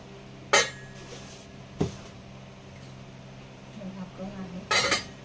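A small steel idli mould stand with a lid is handled, giving a few sharp, close metallic clinks with quieter rattles and clatter between them.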